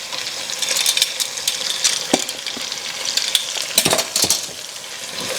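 Curry powder being stirred in a frying pan while cooking shrimp, a steady sizzle with repeated scraping clicks of a utensil against the pan, close and alone without talk.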